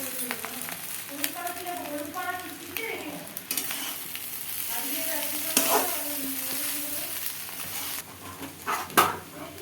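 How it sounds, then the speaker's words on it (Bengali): Boiled chow mein tossed and stirred in a hot pan, giving a continuous sizzle with scraping strokes, while faint voices murmur in the background. "এবার সেদ্ধ চাউমিনটার সঙ্গে এটা ভালো করে মাখাতে হবে।"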